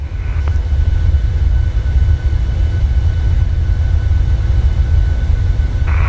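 An aircraft takes off in Microsoft Flight Simulator with a steady, loud low engine roar that holds throughout, unbroken and without speech.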